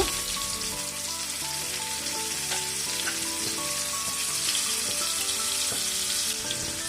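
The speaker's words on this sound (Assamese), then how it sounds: "তেলখিনি ভালকে গৰম হোৱাৰ পিছত ফ্লেমটো কমাই দিম আৰু পটলকেটা দি দিম।" Whole pointed gourds sizzling loudly in hot oil in a pan, a dense, steady frying crackle with occasional stirring clinks.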